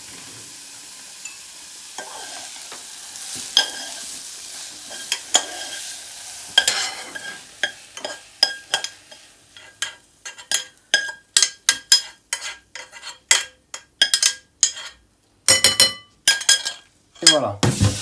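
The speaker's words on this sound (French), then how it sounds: "Donc là maintenant, on mélange délicatement." Seared carrots and onion stirred in a pan with lemon, a spoon scraping and clinking against the pan in quickening strokes over a light sizzle, the clatter growing denser and louder toward the end.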